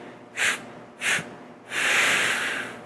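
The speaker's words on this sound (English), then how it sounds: "not just pushing the whole breath out at once, but finding these little bursts" A person does choo-choo breathing: two short, sharp nasal exhalation bursts spaced about half a second apart, then a longer, sustained breath out, all close and with no speech.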